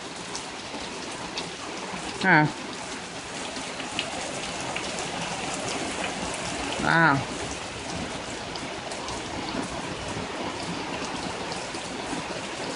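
Heavy rain pours down steadily during a thunderstorm, a constant close wash of drops on surfaces, with two brief spoken exclamations breaking through.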